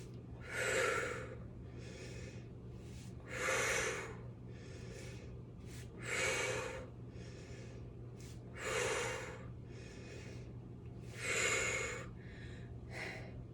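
Heavy rhythmic breathing during a strength workout, five loud drawn breaths spaced a few seconds apart with softer gasps and snorts between, close and alone over a low steady hum.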